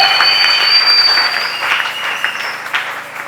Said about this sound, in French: Que celui qui est dans la joie acclame très fort cette parole.